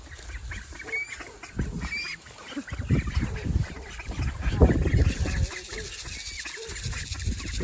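A flock of hungry backyard chickens and ducks clamoring for feed, honking and squawking loudly and continuously close by, rising to a peak in the middle with a faint voice underneath.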